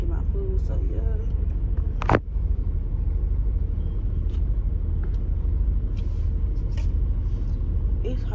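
A car idling in a Wendy's fast-food drive-thru on a hot day, a steady low engine rumble filling the scene throughout, close by, with a brief sharp click partway through.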